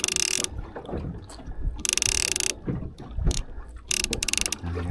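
A fishing reel's clicker ratchets on a boat in the Gulf of Thailand, coming in three short, loud bursts of rapid clicking with low boat rumble and water noise in between.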